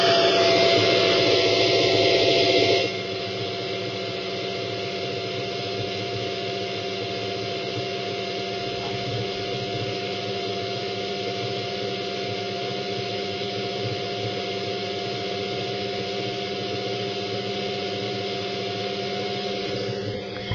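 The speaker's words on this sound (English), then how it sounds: "Let's put it on the dyno and see how she runs." A vintage Tyco Lamborghini Countach slot car runs on a dyno with a steady, high electric whir. It starts with a louder burst, then settles into a constant motor whine with a low hum underneath for the rest of the run.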